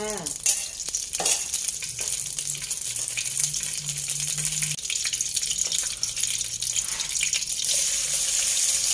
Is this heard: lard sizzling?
yes